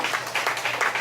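A church congregation claps in quick rhythmic bursts, a short stretch of lively applause heard from within the room.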